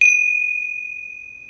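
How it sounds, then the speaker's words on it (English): A single bright metallic strike of a gong opening a Hindu puja, ringing out one clear sustained tone that fades slowly over a second and a half, alone with no voices. "I'm going to open and close the puja with a gong."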